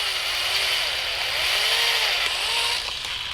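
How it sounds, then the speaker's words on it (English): A drill bores slowly and gently through a river cane arrow shaft toward the node, a steady whining buzz running unbroken for about three seconds with no voices over it. "drill that out to the node."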